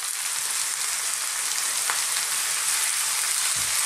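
Tomatoes dropped into a hot pan for a potato curry, setting off a steady, dense hiss of frying oil that carries on evenly throughout, close and moderately loud, with no speech.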